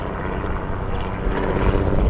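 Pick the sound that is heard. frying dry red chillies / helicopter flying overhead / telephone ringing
helicopter flying overhead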